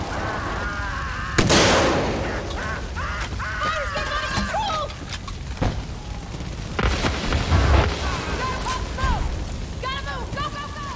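Loud explosions and bursts of gunfire in the video game Far Cry 5 ring out at intervals under excited talk, with a big boom early on.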